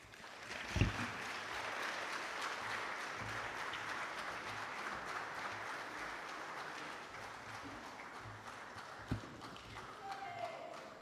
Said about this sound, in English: A wonderful round of applause for Professor Kasaija.